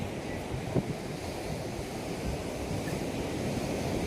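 Sea waves crash against a coastal sea fort in a continuous rushing roar, with wind buffeting the microphone and one brief thump early on.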